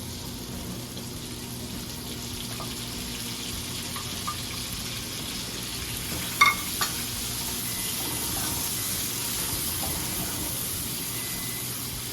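Spicy shrimp gambas sizzle in a frying pan, a steady soft hiss of hot oil with a few small clinks of a utensil against the pan, no talking.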